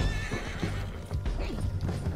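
A horse in Red Dead Redemption 2 neighs loudly and close, with clip-clop hoof steps over treacherous terrain in the background.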